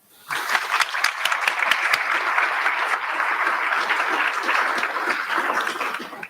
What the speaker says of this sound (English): Let's give a round of applause to him and all of the teachers and staff here at East Central.